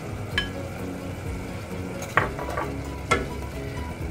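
Broccoli and other vegetables dropped into a hot pot of keto soup on the stove, a soft steady sizzle with three brief clinks and knocks of a utensil against the pot.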